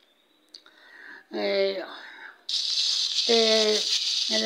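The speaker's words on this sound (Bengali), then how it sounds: "তো মাছগুলো কড়াই বসাই দিলাম, দিয়ে তেল দিলাম, দিয়ে তেলটা গরম হয়েছে পরে মাছগুলো দিয়ে দিলাম" Pangas fish frying in hot oil in a wok: a loud, close, steady hiss begins abruptly partway through and keeps going, while a person talks over it.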